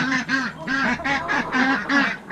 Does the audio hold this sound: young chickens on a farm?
yes